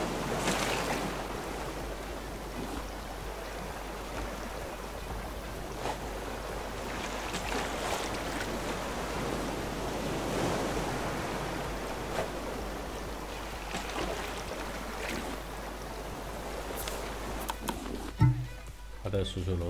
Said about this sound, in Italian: Oh, è ritornato il sereno, le onde tra poco finiranno.